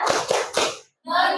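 Children in a classroom clap a quick rhythmic pattern for the Tepuk fokus chant, three sharp claps followed by a short pause and then more clapping, close and clear.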